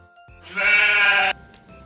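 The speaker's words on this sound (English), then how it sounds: "Yes, sheep likes to eat grass." A sheep bleats once, a loud, clear, wavering call lasting under a second, with no other sound around it.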